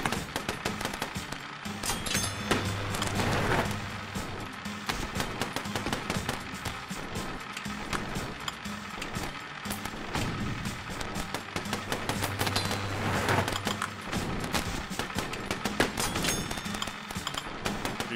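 Rapid, dense bursts of tank gunfire and explosions from the video game Wee Tanks, a continuous loud clatter of overlapping shots with little pause throughout.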